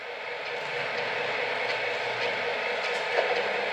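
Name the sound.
O gauge model Southern Pacific SD40-2 locomotive running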